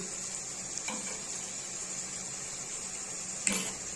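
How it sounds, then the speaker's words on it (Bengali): Leafy greens frying in a pan with cumin powder, coriander powder and salt give off a steady, faint sizzle, with a couple of brief stirring scrapes near the start and end. "এবার ভালোভাবে কষিয়ে নেব সুন্দর করে"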